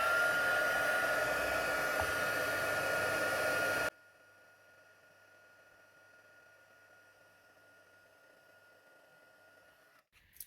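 Heat embossing tool blowing over white embossing powder, a loud steady hot-air roar for about four seconds, then switching off to near silence with a faint click at the end.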